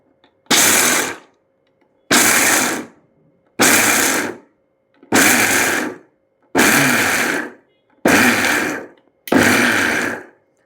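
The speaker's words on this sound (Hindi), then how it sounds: "ग्राइंडर में डालने के बाद हम इसको पल्स में ग्राइंड करेंगे बहुत हल्के हल्के से" Kitchen grinder pulse-grinding warm roasted peanuts, seven short loud whirring bursts about a second each with brief silent gaps between them, evenly spaced and close.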